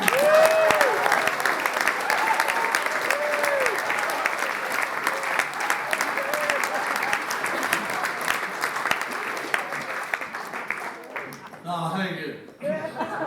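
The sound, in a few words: audience applause at a poetry debate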